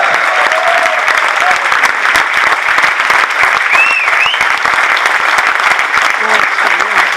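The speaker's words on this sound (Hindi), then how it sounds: "Let's give a big round of applause." A large audience at a corporate event applauds loudly as a guest is called on stage, a dense, continuous roar of clapping close and full, with faint whistles or tones rising above it.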